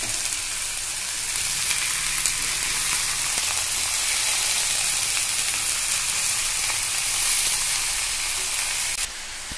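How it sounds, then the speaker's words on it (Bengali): Marinated mutton added to onions already fried red for Bengali dahi mutton curry, producing a loud, steady, hissing sizzle that runs without a break and drops off abruptly near the end. "এবার আমি ম্যারিনেট করা মাংসটা দিয়ে দেব।"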